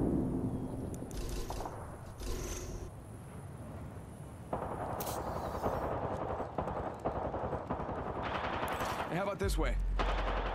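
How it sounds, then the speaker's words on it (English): Gunfire in the battle royale game Apex Legends: rapid automatic bursts and shots crackle loudly across the match, mixed with game effects, while a player talks over the action. "Shots fired, and they're hitting me."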